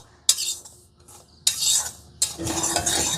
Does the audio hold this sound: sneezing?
no